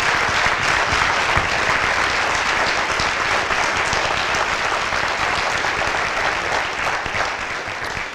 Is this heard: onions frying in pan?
no